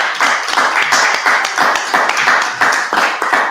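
Several people clap their hands together in a quick, uneven rhythm, loud and close throughout.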